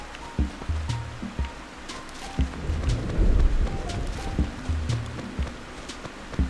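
Steady rain falls in the Animal Crossing video game, a continuous soft hiss and wash beneath gentle game music tones and occasional soft thumps, with no voices.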